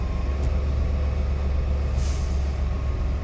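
A truck's air brake system reaches governor cut-out pressure, heard as a loud, steady rush of compressor and air noise that holds level throughout, with a brief hiss close to the end.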